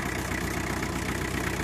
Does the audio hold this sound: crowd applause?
no